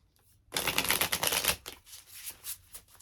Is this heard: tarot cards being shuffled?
yes